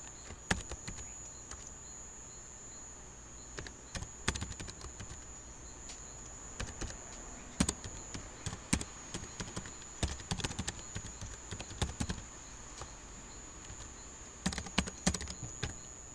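Typing on a computer keyboard while entering ROS commands, a quiet, irregular patter of clicks and taps arriving in short bursts with brief pauses, over a faint constant electronic whine.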